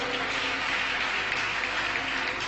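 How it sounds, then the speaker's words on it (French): An audience applauds at a ceremony, a dense, steady patter of clapping filling the whole short stretch. "Notre vice-président, Bruce Maïlé Magloire, que je demande d'applaudir également."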